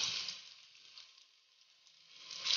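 Garlic dropped into hot oil gives a bright, airy sizzle that is loud at the start, dips to near quiet in the middle and swells again at the end, heard close with no talking.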